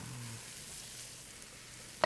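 Onion, oil and spices hiss softly as they fry in a pot for Kenyan beef stew, a faint, steady sizzle running throughout, with one small clack near the end.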